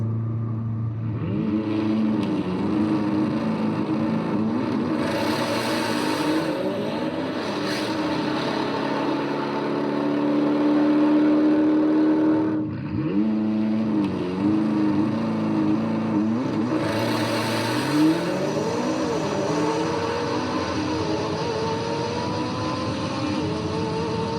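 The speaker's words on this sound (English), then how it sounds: "what the power of launch control on this McLaren really does" A McLaren launches hard under launch control, its engine roaring loudly and continuously as revs climb through several sweeping gear changes, with brief dips between shifts, no talking over it.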